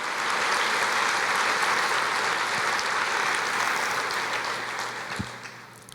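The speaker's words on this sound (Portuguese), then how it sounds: "Pode aplaudir o Senhor." A church congregation claps in a full, steady round of applause that begins loud and slowly thins and fades toward the end, with a few sharp individual claps standing out.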